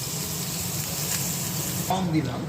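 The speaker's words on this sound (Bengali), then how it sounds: "তিনটে তিনটে করে ভাজবো" Food frying in a pan three pieces at a time, a steady close hiss and sizzle running throughout, with a brief clatter near the end as pieces are set in.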